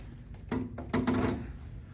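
A hot tub's access door panel is set back into place with two dull, close wooden thunks about half a second apart, then a faint rustle as it settles.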